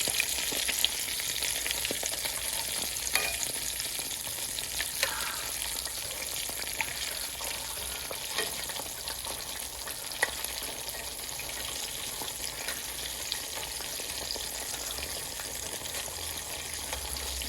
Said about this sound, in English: I'm frying some keto spinach balls that I have frozen.